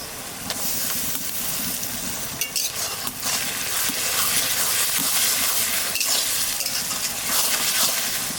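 Garlic sizzles in hot oil with softened onions in a mutton curry pan, a loud, constant crackling hiss broken by occasional stirring scrapes.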